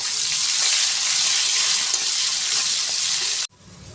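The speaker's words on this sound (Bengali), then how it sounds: "তেলটার মধ্যে আমি দুটো তেজপাতা দিয়ে দিলাম, ক্যাপসিকাম দিয়ে দিলাম, এক মুঠো কুচনো পেঁয়াজ দিয়ে দিলাম" Chopped onion, capsicum and bay leaves fry in hot oil with a loud, steady, close sizzle that stops abruptly near the end, and no voices are heard.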